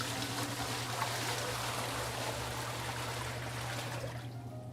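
A steady gush of 15 liters of cold tap water pours continuously into pizza dough mixing, a broad rushing splash that thins out toward the end.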